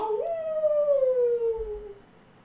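A person imitates a werewolf howl with a single drawn-out, falling wail that is close, clear and alone, fading away after about two seconds.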